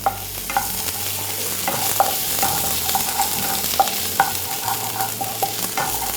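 Chopped garlic and ginger frying in chicken oil for dragon chicken, a loud continuous sizzle close by with occasional light stirring clicks and no speech.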